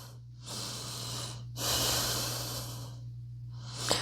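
Slow, deep breaths during a back-focused yoga session, with long airy inhales and exhales close to the mic over a low steady hum, no talking.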